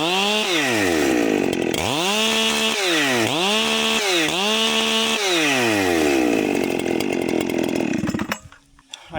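Chainsaw from the 50 to 70cc class with a slightly burred chain, loud and close, revving repeatedly in rising and falling surges for about eight seconds before cutting out abruptly.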